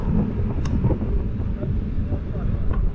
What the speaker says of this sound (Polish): Wczoraj był upał, a dzisiaj, jak sama nazwa, w Wietrzychowice jest wiatr.